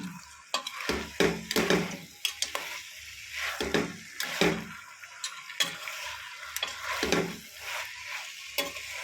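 Turmeric and other ingredients for mutton kulambu sautéed in a pan: close, rhythmic stirring scrapes and clatter over a soft, continuous frying sizzle, with no talking.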